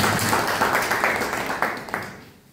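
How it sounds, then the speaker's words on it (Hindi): Applause from attendees welcoming a guest at a district meeting in Ramgarh, a brief loud burst of clapping from a seated crowd that fades away within a couple of seconds. "जोरदार तालियों से इनका स्वागत करता हूं।"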